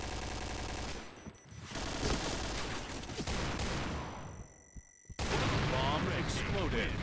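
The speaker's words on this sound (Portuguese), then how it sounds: "Bomb exploded." Gunfire and a heavy blast rumble through a Point Blank bomb-defuse round, loud and dense with bursts, then a sharp explosion surge near the end; voices chatter underneath.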